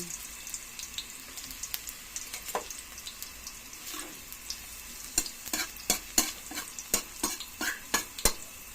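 Garlic frying in a hot pan for sautéed mung beans, a constant sizzle under repeated sharp clacks and scrapes of a spatula stirring, growing more frequent toward the end, no voices.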